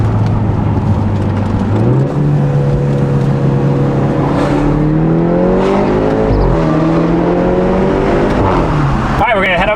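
BMW G30 530i four-cylinder engine with a Valvetronic exhaust revving and shifting, engine pitch climbing and dropping through several gear changes, loud and close, with a voice briefly under it.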